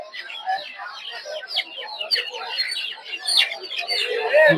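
Chickens and ducklings clucking and high-pitched chirping close by, busy and overlapping, with people's voices in the surrounding bustle of a poultry market in Putia, Narsingdi, Bangladesh.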